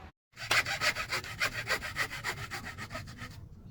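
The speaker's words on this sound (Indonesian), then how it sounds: "kita amplas menggunakan amplas kayu untuk memudahkan nanti dalam mengatur sudut" Rapid rhythmic rasping strokes of abrasive rubbing against wood, steady and close, repeating several times per second after a brief silent start.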